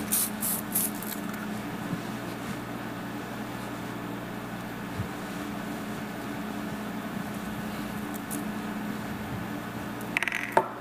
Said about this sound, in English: if I can just take a little bit of that hairspray and a little bit of that shine